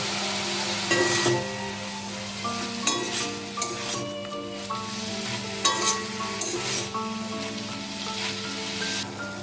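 Banana flower sizzles in a pan with spices while a spoon stirs it. Scrapes and clinks break through the steady frying hiss every few seconds, close and fairly loud.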